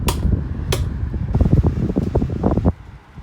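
A 12-inch 1990s desk fan whirs at full power close to the microphone, its steady rush broken by a couple of sharp clicks and some grill rattling.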